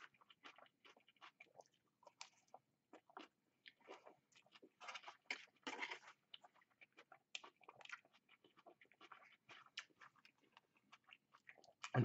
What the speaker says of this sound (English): I do like the crunch of those onions.